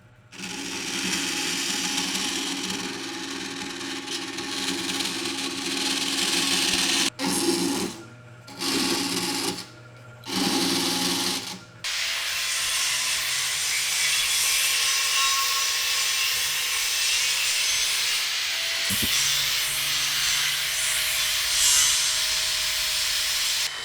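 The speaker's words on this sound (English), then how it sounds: "I'll rough cut it, and then you can grind it down" A metal part for a custom bike is rough cut and ground down with a power tool, giving loud, harsh, continuous grinding broken by a few short pauses before running steadily again.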